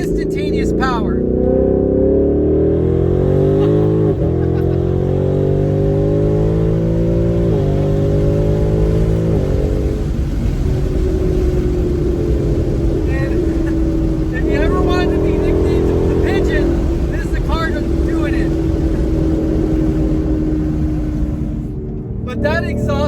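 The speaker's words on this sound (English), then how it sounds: "But that exhaust system sounds incredible." A Ford Mustang GT's exhaust roars as the car accelerates, a loud, deep engine note climbing through gear changes over more than twenty seconds of steady, close rumble.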